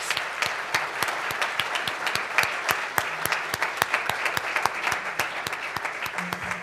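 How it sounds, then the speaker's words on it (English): An audience at a Rotary club meeting breaks into loud, sustained applause, a dense flurry of many hands clapping at once that carries on through the whole stretch without letting up. "Let's give them a round of applause"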